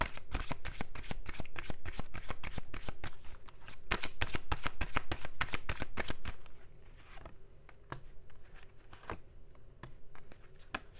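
Tarot cards shuffled for a general card reading, a fast run of crisp riffling flicks for about six seconds, then slower, sparser card slaps and shuffles, close and alone.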